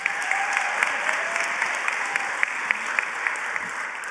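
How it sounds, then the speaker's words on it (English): An audience claps steadily and continuously, a dense patter of hands filling the room at moderate volume without pause. "So give it up for Frances Howard, everyone"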